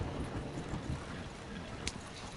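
Soft, steady clip-clop of horse hooves at a quick pace in Red Dead Redemption 2 Online, faint and continuous with no voices.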